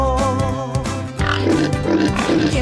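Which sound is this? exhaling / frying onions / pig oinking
pig oinking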